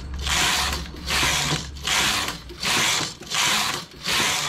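A domestic knitting machine's carriage is pushed back and forth across the needle bed, knitting rows of a side-opening tank top, each pass a loud mechanical whir-and-clatter, about six passes in steady rhythm, close up with no talking.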